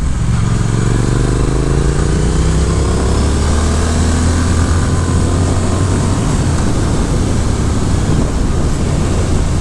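A 2022 Triumph Speed Twin motorcycle engine revs high and screams close by, a loud sustained roar with rising and falling pitch and a steady rumbling undertone.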